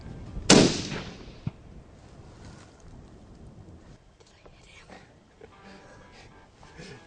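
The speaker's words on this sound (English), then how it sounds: "Just killed a pronghorn, Mackenzie." A single loud, sharp rifle shot rings out close by during an outdoor pronghorn antelope buck hunt, trailing off into a rumbling echo before a quieter stretch of faint background noise.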